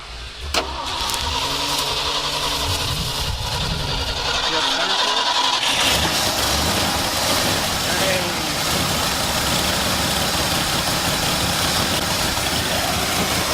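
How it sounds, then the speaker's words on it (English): A 1979 Ford F250 truck engine cranks briefly, then catches around the six-second mark and settles into a loud, steady idle that carries on to the end, with a few voices talking over it. "See if it'll fire up."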